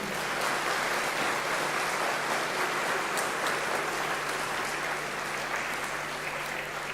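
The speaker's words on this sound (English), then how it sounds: "let's give them a round of applause of thank you" An audience at a Unisa university graduation ceremony applauds, a sustained even roar of many hands clapping in a large hall for several seconds, over a low steady hum.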